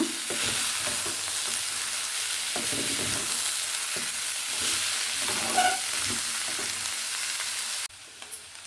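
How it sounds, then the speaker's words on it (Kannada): Chopped vegetables frying in a pan for fried rice made without sauces, giving a loud continuous sizzle with periodic scraping stirs, before the sound drops sharply near the end. "ತರಕಾರಿ ಎಲ್ಲ ಚೆನ್ನಾಗಿ ಬೇಯುತ್ತೆ"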